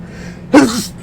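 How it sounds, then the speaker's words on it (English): One sharp, close human sneeze bursts out suddenly halfway through, loud and brief, then tails off into quiet background. "I'm gonna sneeze in a minute"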